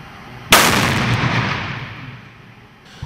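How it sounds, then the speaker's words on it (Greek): An explosive device is set off in a controlled detonation during an evacuation drill at Larnaca airport. A single loud, deep blast is followed by a long rumbling decay that fades over about two seconds. "δεύτερος εκρηκτικός μηχανισμός εντοπίστηκε και εξουδετερώθηκε με ελεγχόμενη πυροδότηση"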